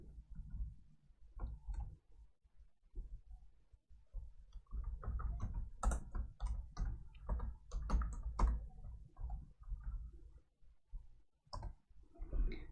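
Computer keyboard typing Python commands, with bursts of quick clicking keystrokes, some fast runs and short pauses, close and fairly quiet.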